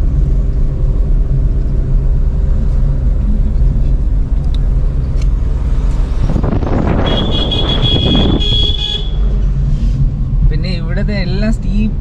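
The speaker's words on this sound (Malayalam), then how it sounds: "ലോറി വരുന്നുണ്ട്" A lorry labouring up a steep hill road near a dam site, a constant heavy engine rumble with wind buffeting the microphone, swelling as it passes close by, with a short shrill squeal and chirpy sounds near the end.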